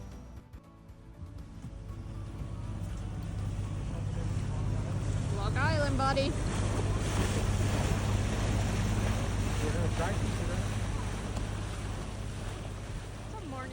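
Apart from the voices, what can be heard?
motorboat cruising over waves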